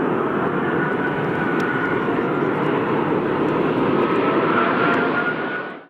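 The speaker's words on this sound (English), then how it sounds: "It's definitely rare to get to see an Airbus A380 go around." An Airbus A380 jet airliner roars through a go-around with a loud, continuous engine rumble and whine that holds steady and then cuts off at the end. No voices are heard.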